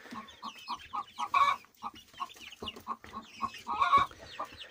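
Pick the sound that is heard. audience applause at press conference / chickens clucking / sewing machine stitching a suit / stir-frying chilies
chickens clucking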